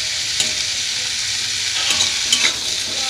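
Onions sizzling steadily in a hot pan of sambar dal, with a few scraping stirs of a spoon breaking through the continuous frying hiss; no voices.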